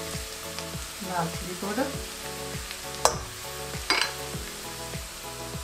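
Onions with turmeric and spices sizzle in a pan for aloo palak, a steady loud frying hiss with rhythmic stirring scrapes and a couple of sharp utensil clinks, while a voice speaks briefly.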